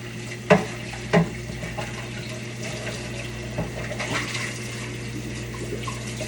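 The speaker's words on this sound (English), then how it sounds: "Find me another pot. Give it a good little rinse out." Water runs and splashes while a cooking pot is rinsed out in a kitchen, with two sharp knocks of the pot near the start, then a steady gurgling flow without talk.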